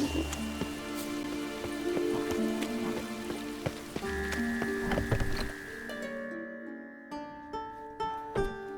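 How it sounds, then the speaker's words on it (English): Steady rain falling in The Witcher 3 video game, a continuous patter mixed under ambient game music with tonal layers, fading toward the end. "Rain was coming."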